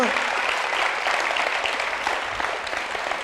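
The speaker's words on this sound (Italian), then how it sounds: "Facciamole un applauso, signora Santina" Stage audience applauds Signora Santina, a steady wash of clapping that sits under talk throughout.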